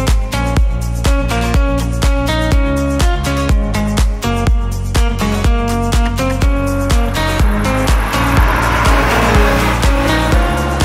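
A Ferrari 512 BBi sports car drives with a loud, close engine roar that rises and falls rhythmically through repeated revving, with a harsher, noisier stretch near the end.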